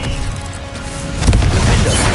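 Glacius and Confringo spells cast in Hogwarts Legacy: a loud, dense magical effect that swells into a heavier booming, shattering burst partway through, close and forceful with no voices.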